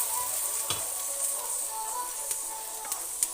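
Onions sizzling in a pan, a close, steady hiss with a few small crackles and pops.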